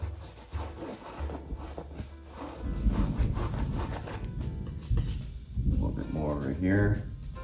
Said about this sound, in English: Just rubbing it in, that's all I'm doing, is just rubbing it in